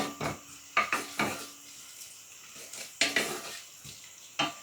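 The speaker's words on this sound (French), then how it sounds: "on verse donc les émincés d'oignons. Et on fait revenir le tout dans l'huile quelques minutes." Sliced onions sautéing in oil in a pan, heard as a soft, steady fry with a string of sharp spoon-on-pan scrapes and knocks, close and moderately loud, no voices.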